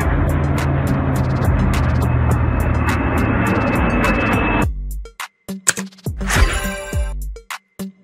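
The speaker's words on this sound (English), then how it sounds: "Air tanker plane." A large air tanker plane roars steadily and loudly for several seconds, then the engine noise cuts off, leaving brief scattered knocks and a short burst of clatter.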